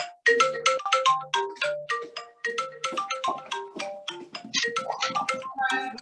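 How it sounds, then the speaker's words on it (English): A phone rings in a kitchen during a challah baking session, a bright electronic ringtone melody of rapid repeated tones that fills the whole stretch, loud and close with no talk over it. "We haven't had more phones and doorbells in all this time."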